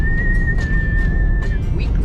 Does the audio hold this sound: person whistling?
yes